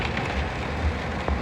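Heavy rain drums steadily on the outside of a vehicle cab in Bangalore, a dense continuous patter with no voices, a few heavier low thuds breaking through the wash.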